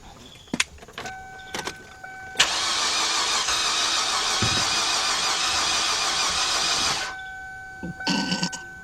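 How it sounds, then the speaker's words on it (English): A 2006 Kia Sportage with a 2.7 engine and a no-start fault cranks continuously for about five seconds without catching, preceded by door and key clicks and a warning chime, then falls quiet. "Let's get in, start the car up, see what's going on."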